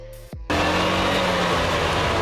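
Citroen Mehari driving and shifting into second gear, with a brief drop in engine sound as the gear changes, followed by a loud, steady close-up engine and road noise.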